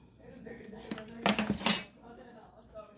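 A metal teaspoon clinks and rattles against dishes while salt is measured for homemade bread rolls, a short cluster of bright clatter in a quiet kitchen.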